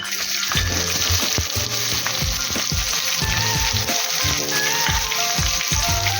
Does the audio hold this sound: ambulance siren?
no